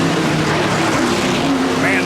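Onboard a GP3 race car in a 2010 race, the engine note drops in pitch under heavy braking into a corner, loud and close, with a commentator talking over it.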